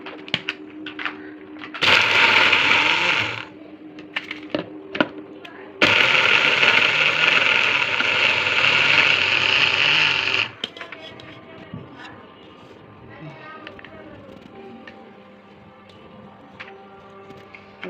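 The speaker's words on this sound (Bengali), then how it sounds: "এখন আমরা ব্লেন্ডারে গুঁড়ো করে নেব।" Kitchen blender grinds fried lentil dumplings into powder for laddu sweets in two loud whirring bursts, a short one and then a longer one, followed by quiet room sounds.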